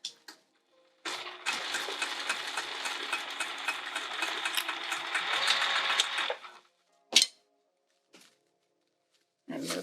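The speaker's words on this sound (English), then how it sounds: "So I am going to start sewing there." A sewing machine stitches the tight corner of a fabric sling in one steady, close run of about five seconds, followed by a few isolated clunks and taps as the fabric is shifted.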